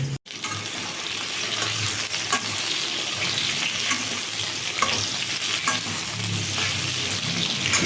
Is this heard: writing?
no